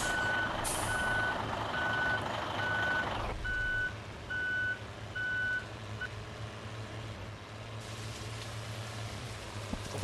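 A truck in a driving game reverses with a steady series of evenly spaced reversing beeps over a constant engine rumble. The beeping runs for about six seconds and then stops, and a soft patter of rain continues underneath.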